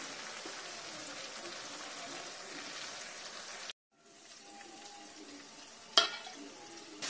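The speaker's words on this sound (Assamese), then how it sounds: "মছলাখিনি দি ভাজি দিছোঁ দেই।" Ground masala spices frying in a pan for a sesame meat curry, a soft steady sizzle that drops away briefly and then returns more faintly, with a sharp clink partway through.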